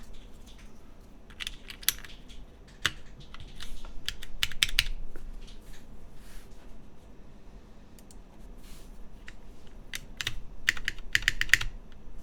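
Someone types on a custom mechanical keyboard fitted with keycaps, producing quick close clacking keystrokes in irregular bursts, loudest in a few dense runs, with no talking.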